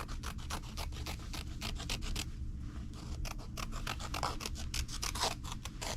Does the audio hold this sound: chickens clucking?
no